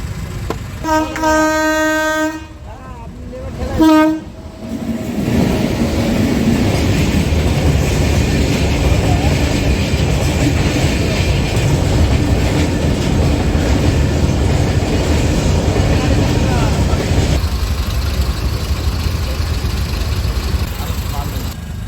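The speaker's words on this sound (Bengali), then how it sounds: "ভাই এটাও ট্রেন না, এটাও মালগাড়ি।" A long freight train rolls past a closed railway crossing on a Murshidabad roadside, a loud continuous rumble and rattle of wagons close by, preceded by brief voices and a short horn-like tone at the start.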